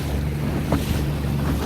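A motorboat on Lake McConaughy roars at steady volume as it moves across the water, its low engine drone blended with rushing wind and water on a calm morning.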